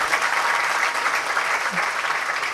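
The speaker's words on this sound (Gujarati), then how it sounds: "અને આવ્યા એને તાળીથી વધાવો." A crowd at a Ram Navmi devotional gathering claps continuously, a dense steady roar of applause at even loudness throughout with no break.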